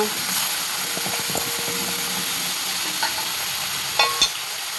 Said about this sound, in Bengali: মাছ ভাজতে দিয়ে দিয়েছি।